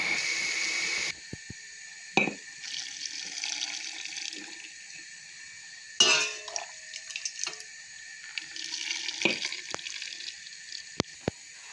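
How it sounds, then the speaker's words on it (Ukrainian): Hot boiled marinade is poured into jars of mixed pickled vegetables, with a close steady liquid stream broken by brief pauses and a few sharp clinks of glass or lids. "Маринад кипів 2 хвилини, додаю."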